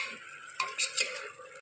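Mutton with turmeric and salt sizzles in a pan while a utensil stirs it, a soft steady frying hiss with a few quick metallic scrapes and clinks close by.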